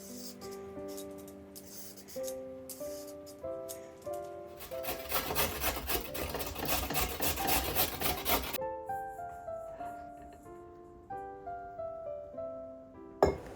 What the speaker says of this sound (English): Let's start by peeling and grating the carrots fine.